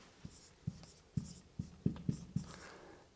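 A marker pen squeaks and taps across a whiteboard in a classroom setting, with about seven short strokes in an irregular rhythm, close and fairly quiet, and no voice alongside.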